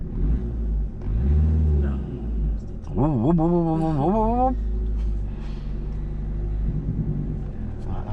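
A car pulls away in first gear during a driving lesson, its engine droning low and steady, then rising in a brief revving whine before settling back, heard close from inside the cabin with a voice exclaiming briefly over it.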